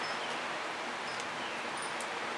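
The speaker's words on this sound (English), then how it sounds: "Ooh, that's very windy." Wind blows outdoors during an open-air fluid acrylic painting session, a steady, broad whooshing rush that holds at an even level throughout.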